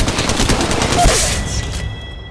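Automatic weapon fire in the mobile battle royale Apex Legends Mobile: a loud, dense volley of quick shots for over a second, then fading into a quieter, ringing tail.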